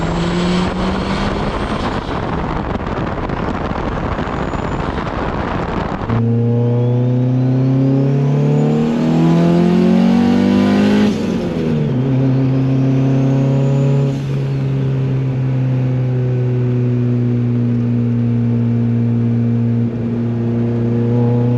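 A loud turbocharged single-cam Honda Civic engine revs hard at about 6 psi boost, harmonic tones climbing and holding, close up, while a faint turbo whistle rises over the roar.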